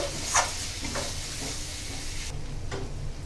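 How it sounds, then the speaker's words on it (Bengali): Masala spices being stirred in a hot pan for a prawn and Malabar spinach dish, giving a steady close frying sizzle and hiss with a few soft scrapes of the stirring utensil. "এখন মশলাটাকে ভালোভাবে আবার নাড়িয়ে নিচ্ছে"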